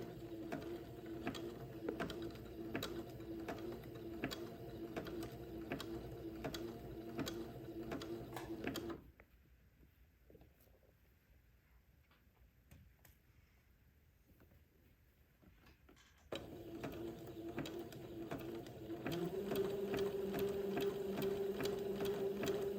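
Sewing machine stitching slowly around a tight curve on a Christmas collar, a steady mechanical whir that stops for several seconds midway, then resumes at the same close, even pace.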